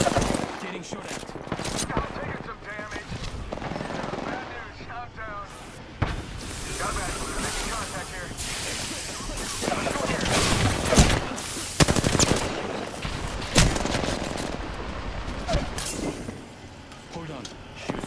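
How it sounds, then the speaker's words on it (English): Gunfire in the Apex Legends video game, rapid automatic bursts and shots crackling loudly and densely through the whole stretch, mixed with game effects and other battle noise. "Getting shot at."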